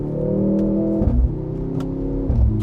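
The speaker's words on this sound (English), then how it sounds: "As expected, exhaust sound, very fake and pumped in." Synthetic exhaust note of a 2025 Mercedes-AMG GLC 63 S E Performance with its four-cylinder engine, piped into the cabin as a droning hum with rising pitch that drops between two gear changes.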